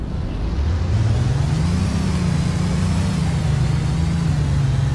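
A 2011 Chevy Volt in a Roblox Greenville game accelerates from a standstill to 60, its low engine tone rising smoothly in pitch then holding steady, loud and continuous.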